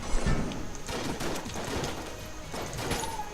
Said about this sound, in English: Void shotgun. The void shotgun is pretty fun.